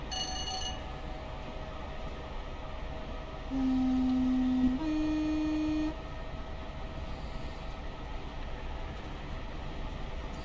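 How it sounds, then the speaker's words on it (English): A Class 412 4-BEP electric train sounds its horn in a railway simulator game: two short steady tones, the second slightly higher, over a low running rumble and faint ticking. "Bit of a weedy horn on the train."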